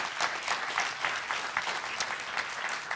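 A crowd at a college prep school event applauds a fundraising total during a grand piano unveiling, with dense, even clapping sustained throughout the short stretch.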